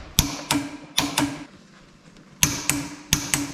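A torque wrench tightens brake caliper bolts to 105 Nm on an Abarth with Bosch calipers, giving sharp metallic clicks in close pairs and short bursts, separated by a quiet pause.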